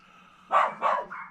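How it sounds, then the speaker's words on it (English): Two sharp dog barks sound outdoors close together, followed by a softer third yelp, over a quiet background. "Let's go see if we can find out what they're barking at."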